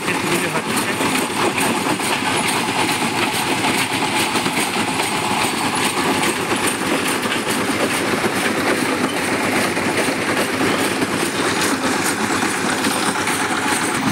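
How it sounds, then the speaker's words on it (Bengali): Concrete mixing machine running, a loud continuous rumbling churn with dense rattling texture, steady and close throughout. "এই যে কংক্রিটগুলা, এইগুলোকে কংক্রিট করা হবে। মেশিন অলরেডি স্টার্ট হয়ে গেছে।"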